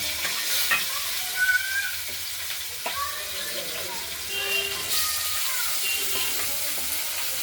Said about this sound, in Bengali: আর দেব কেটে রাখা আলুগুলো।